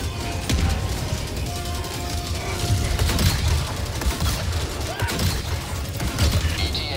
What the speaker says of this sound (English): A lot of rockets coming in.